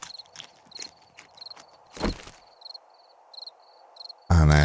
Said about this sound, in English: Because the crickets have started